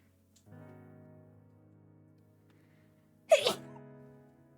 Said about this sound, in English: I don't wanna cancel out my sneeze by talking